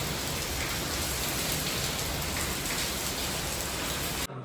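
Heavy rain lashes down during a severe storm, a dense, constant roar of drops hammering surfaces with no voices. It holds at an even intensity before cutting off suddenly.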